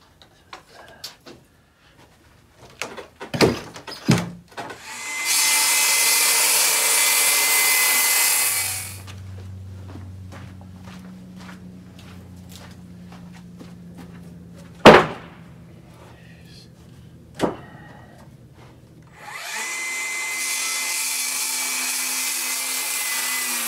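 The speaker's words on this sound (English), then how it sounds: "So I'm gonna rip me some 72 inch boards" A sawmill rips 72-inch boards from old-growth lumber, with two loud bursts of high cutting noise separated by a low mechanical hum, punctuated by knocks and thumps of handled wood, with no talking.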